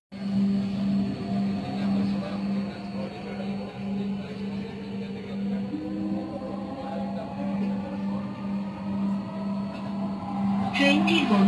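Dhaka metro rail train in Mirpur running between stations, a steady interior rumble with a continuous low drone and a faint rising whine, with brief clatter near the end.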